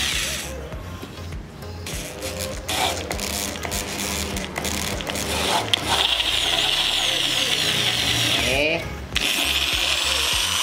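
A tap-and-die threading tool turning into metal, driven by a 10 mm drill, gives a continuous mechanical whirring and ratcheting that runs steadily throughout, with a brief shift near the end and a person talking over it.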